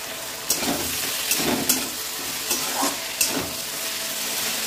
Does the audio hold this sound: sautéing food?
yes